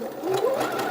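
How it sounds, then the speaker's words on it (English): A sewing machine running a zigzag stitch along a skirt hem, a loud close continuous whirring hum with a rising motor tone over one second. "use a zigzag stitch, which is what I'm going to do now"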